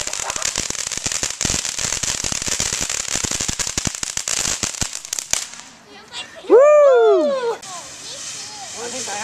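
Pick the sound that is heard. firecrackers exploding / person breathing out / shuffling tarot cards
firecrackers exploding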